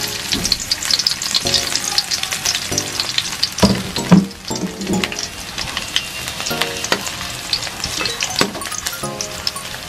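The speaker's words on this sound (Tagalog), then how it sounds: "Dahil mainit na ang oil, ilagay na natin ang garlic." Garlic dropped into hot oil for chicken adobo in coconut milk, crackling and sizzling steadily up close with occasional clinks and stirring scrapes.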